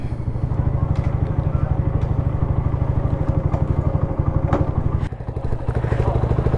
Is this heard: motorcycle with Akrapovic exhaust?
yes